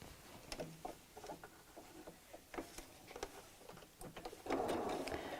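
A sewing machine stitches a seam on a folded, pinned tote or beach bag: scattered close clicks and handling taps, then a steady, louder whirring run near the end.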